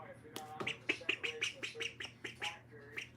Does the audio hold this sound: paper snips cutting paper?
no